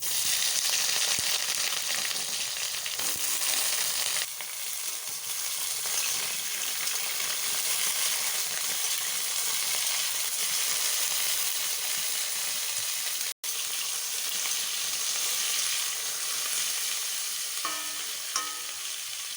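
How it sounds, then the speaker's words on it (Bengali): Moringa drumstick stalks fry in mustard oil in a hot kadai, giving a continuous dense sizzle that holds steady and close for the whole stretch, with a single sharp click partway through. "সজনে ডাটাগুলো এবার ভেজে নেবো"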